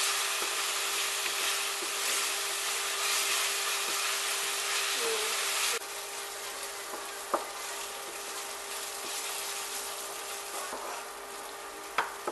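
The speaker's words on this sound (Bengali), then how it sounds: "জিঞ্জার গার্লিক পেস্ট ভালোভাবে মিক্সড করে এটাকে আরও কিছুক্ষণ ফ্রাই করবো যতক্ষণ না আনিয়নের কালারটা চেঞ্জ হয়ে আসবে" Onions frying with ginger-garlic paste for malai matar mushroom curry give a steady close sizzle, with a shift partway through and a few sharp clicks of stirring in the pan.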